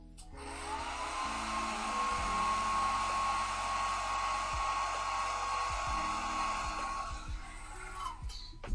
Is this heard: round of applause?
no